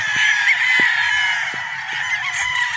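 Gamefowl at a game farm in Batangas, battle stags among them, give off a dense, continuous chorus of honking, crowing calls that blend together close by, with no voices.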